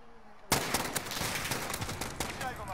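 Gunfire in Call of Duty: Warzone, a sudden loud volley of rapid automatic shots that keeps crackling densely for a couple of seconds, close and harsh, with a voice buried underneath.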